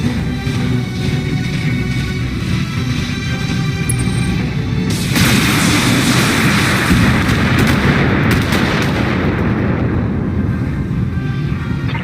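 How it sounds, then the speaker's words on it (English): Weapons fire in the mech combat video game Battletech, a loud, dense barrage of booming shots and rumbling blasts that grows heavier and thicker about halfway through and continues without pause, with no talking. "I'm under heavy fire here."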